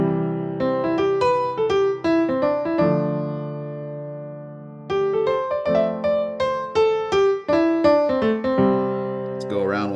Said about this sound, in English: implementing more of this pentatonic scale would sound something like this.